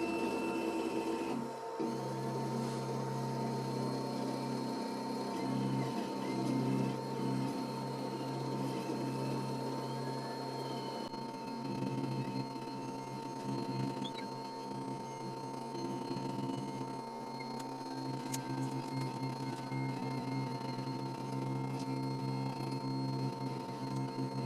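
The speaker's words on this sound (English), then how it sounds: "Turn on the hot wire. Send the G-code to the machine." A FoxAlien HW40 hot wire foam cutting CNC machine runs steadily, its stepper motors giving a continuous tonal hum and whine with small shifts in pitch as the axes move, close and even throughout.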